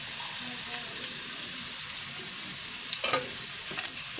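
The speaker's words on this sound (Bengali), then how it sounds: "জিরেটা একটু লাল লাল করে ভাজা করে নেব।" Cumin seeds fry in oil beside fried potatoes in a home kitchen, giving a steady, moderately loud sizzle with a few brief crackles and stirring clinks near the end.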